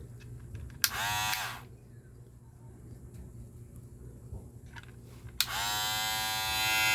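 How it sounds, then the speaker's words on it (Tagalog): A Kemei electric hair clipper buzzes on twice, first in a short burst of about a second and then again at the end, a close steady motor whine with a quiet room in between. "Ayan, hair clipper."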